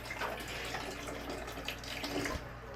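An Insta360 Go 3 action camera plunged into water, with a steady, close rush of splashing and churning water throughout and no voices.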